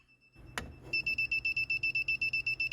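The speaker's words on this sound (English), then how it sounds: "It'll start beeping like crazy once you hit the right breaker." A sharp click, then rapid, regular high-pitched electronic beeps from a circuit breaker finder locating the right breaker, repeating steadily, close and loud.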